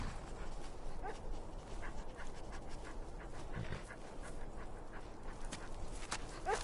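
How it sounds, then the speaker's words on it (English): A war dog in a video game pants and whimpers softly, with faint yips over a steady, hissy ambient background and no talking. "A war dog is good company and good protection."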